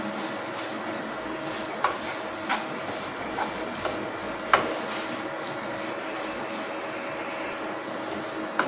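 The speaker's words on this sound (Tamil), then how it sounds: "தேங்காயோட ஈரப்பதம் போகிற அளவுக்கு இதை நல்லா வதக்கிக்கோங்க" Grated coconut, half a shell's worth, being sautéed in a pan for savoury kolukattai: a soft continuous sizzle and scraping hiss with a few light clicks of a spoon against the pan, steady and close.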